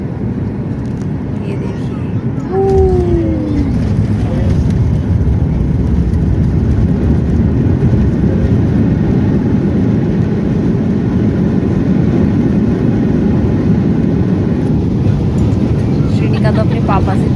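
A passenger airplane accelerates down the runway for takeoff, a loud, steady engine roar heard from inside the cabin, with a voice talking over it near the start.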